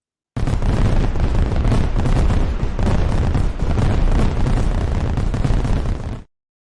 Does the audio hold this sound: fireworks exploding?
yes